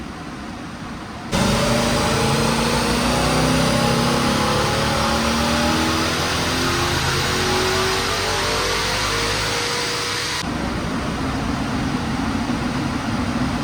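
Stock Hyundai Genesis 5.0 V8, heat soaked on a hot day, revving hard on a dyno: a loud sustained engine roar climbing steadily through the gears for about nine seconds, then dropping back to a rough idle.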